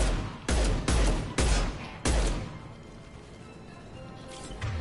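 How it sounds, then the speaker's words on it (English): Hand cannon gunfire in the Mass Effect video game: four heavy, booming shots in quick, uneven succession, each a loud sharp crack with a short rumbling tail, followed by a quieter stretch of faint game ambience. "This hand cannon is the real deal."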